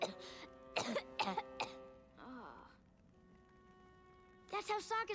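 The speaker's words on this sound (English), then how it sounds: "It was just a little cough." Several sharp coughs come in a quick cluster, followed by talking and another burst of coughs at the end, close and clear.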